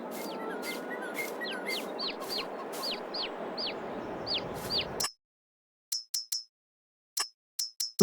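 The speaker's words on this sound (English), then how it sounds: "I'm going to get a new rooster for in here" A rooster in Farming Simulator 22 clucks in a quick, rhythmic series over a steady farmyard background. The background then drops out, leaving a few short, isolated calls.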